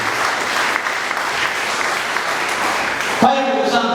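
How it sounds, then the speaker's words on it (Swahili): A church congregation bursts into loud, sustained applause for Jesus during a sermon, dense clapping filling the space before it suddenly cuts off near the end, where a brief voice or music tone takes over. "Pigie Yesu huyu makofi"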